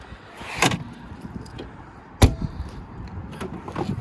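Boot of a BMW 5 Series Touring 520d diesel estate being opened, with a mechanical click and latch thunk near 0.6 s and a sharper clunk around 2.2 s, heard close up against quiet background rustle.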